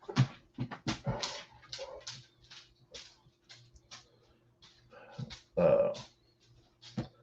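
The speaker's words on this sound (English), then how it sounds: "What are you barking at?" A dog whimpers and yips in a run of short, uneven bursts, with a louder whine near the end, fairly close and with no talking over it.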